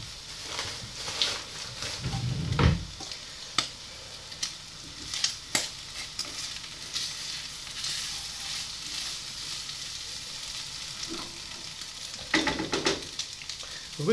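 Meat for a boeuf bourguignon-style dish simmers in a pot, giving a continuous low bubbling sizzle with scattered utensil knocks and stirring scrapes, close and moderately loud throughout.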